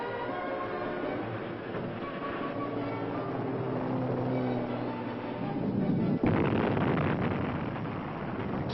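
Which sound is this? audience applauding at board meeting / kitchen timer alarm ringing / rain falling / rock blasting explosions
rock blasting explosions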